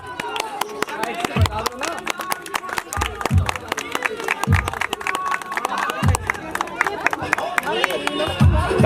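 Guests at an anniversary party clap in dense bursts, with louder swells every second or so, over a murmuring crowd and background music.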